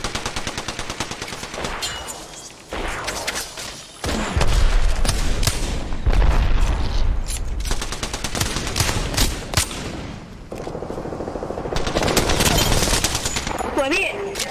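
Rapid bursts of automatic gunfire crackle through a shooter video game, loud and dense, some stretches of sustained fire and others of shorter volleys, with players talking over the shooting.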